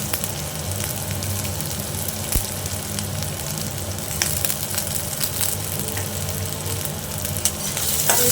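Chopped onion and garlic fry in hot oil in a pan, a dense, steady sizzle with crackling spatter and occasional stirring scrapes, close and unbroken by any voices.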